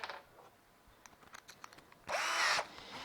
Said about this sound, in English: drill a 6mm hole